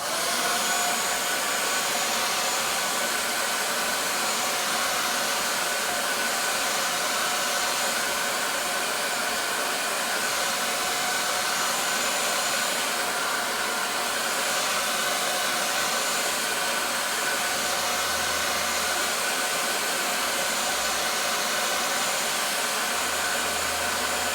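A hair dryer blows steadily and loudly on a bald wig cap, a constant close roar with no voices and only slight changes in tone across the stretch.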